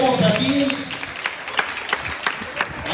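A municipal candidates' forum in Colima: a voice speaks briefly, then an audience breaks into sustained clapping, with scattered sharper claps over a moderate, even wash of applause.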